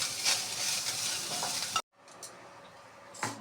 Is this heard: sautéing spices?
yes